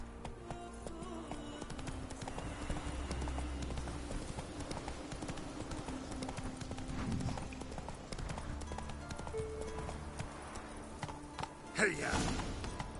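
Hooves of Roach, the horse in The Witcher 3 set on Skellige, clip-clopping in a steady rhythmic gait under game ambience, with a brief louder thump near the end.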